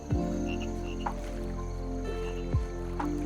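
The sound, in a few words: frogs croaking in the video game Call of Duty Zombies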